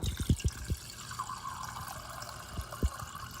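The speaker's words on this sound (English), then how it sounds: "So what I'm gonna do is add some water." Water poured into a measuring cup while making watermelon agua fresca, a soft continuous trickle with a few brief clinks near the start and end, close and fairly quiet.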